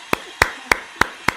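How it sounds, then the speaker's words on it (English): Five sharp, evenly spaced hand claps, close and crisp, with brief silence between each. "We got some applause"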